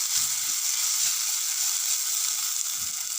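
A tomato mixture with turmeric being stirred in a hot pan for mint tomato rice makes a steady, close sizzling hiss throughout, with soft stirring underneath before it cuts off abruptly.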